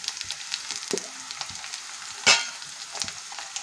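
Green chillies fry with golden-browned onions in a pan for mutton curry, giving a light, crackling sizzle. Stirring clicks come and go, and one louder scrape or clatter stands out midway.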